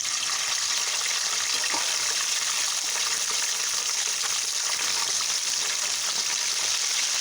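Boiled chicken pieces fry in oil in a pan for homemade chicken pickle, giving a dense, even, continuous sizzle that holds steady at close range from start to finish.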